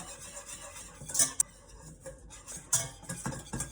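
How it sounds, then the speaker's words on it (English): Flour and oil are whisked together in a pot over medium heat, with soft swishing stirs and a few sharp metallic taps of the whisk against the pot, close up. "I'm whisking together some flour and some oil over medium heat"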